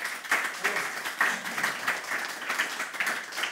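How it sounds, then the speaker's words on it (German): Audience applause at a German talk-show taping welcoming the interior minister of Brandenburg, a steady wash of many hands clapping at moderate level without pause across the whole stretch. "einen recht kräftigen Applaus für den Innenminister des Landes Brandenburg"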